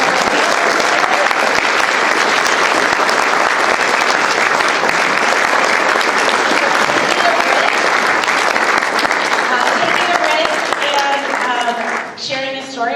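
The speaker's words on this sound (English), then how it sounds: "we'd love to give you a big round of applause" A storytelling event audience gives a big round of applause, dense steady clapping filling the room for several seconds before thinning out at the end, with voices mixed in.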